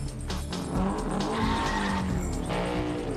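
Race cars in a Fast and Furious 4 street race, engines roaring close and loud while tires skid and squeal continuously.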